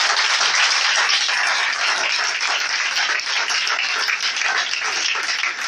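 A church congregation applauds the Lord with steady, dense clapping that fills the room and holds evenly throughout.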